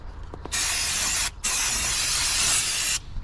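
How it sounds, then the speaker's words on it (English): Generic brake and clutch cleaner hisses from an aerosol can in two close, loud bursts, a short one and then a longer sustained spray, with a brief gap between and quiet before and after. "For this, just literally use any generic brake and clutch cleaner."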